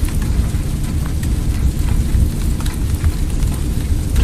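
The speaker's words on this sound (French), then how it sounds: "On est sorti du hangar, il pleut." Steady rain and distant rumbling thunder from a flight simulator game, the aircraft just out of its hangar, a continuous loud wash with low rumbles throughout and no voices.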